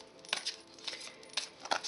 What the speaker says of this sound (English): We're going to shuffle the cards now.